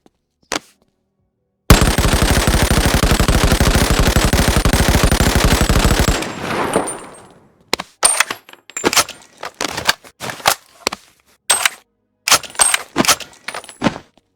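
Light machine gun with a 60-round magazine firing in the VR game Boneworks, a dense rapid burst lasting several seconds, followed by loud metallic clacks and handling clatter, close and with no speech.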